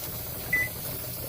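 A kitchen timer being set to 20 minutes while canning pineapple chunks gives one short, clear electronic beep midway, over a steady low room hum.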